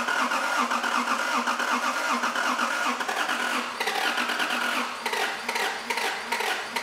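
A car engine cranks steadily, turning over with a rapid rhythmic churn close by, in a car being started after twenty years with a new fuel filter not yet primed.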